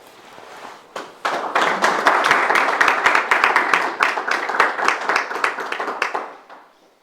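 A short burst of applause from a small group at a professional heritage-research seminar, swelling quickly after a second, dense and close, then thinning out and fading near the end.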